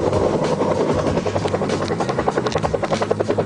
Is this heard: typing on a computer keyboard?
no